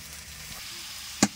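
Ground coriander and cumin paste with black cumin sizzles in hot oil, a soft steady hiss with a sharp clink of a spoon near the end.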